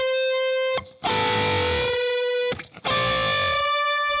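Distorted electric guitar plays the first half of a solo, with sustained bent notes in two phrases separated by brief gaps, loud and close with no talking.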